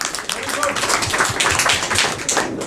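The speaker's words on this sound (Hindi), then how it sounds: "आप सभी के लिए जोरदार तालियां" A crowd at an opening program in Gurshaiganj claps in scattered, uneven bursts, moderately loud and somewhat sparse, while voices murmur underneath.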